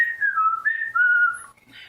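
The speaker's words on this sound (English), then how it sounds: "His shrill ear-splitting whistle" A shrill, ear-splitting whistle carries a wavering, sliding tune, loud and close, in several long phrases with brief breaks and no talking.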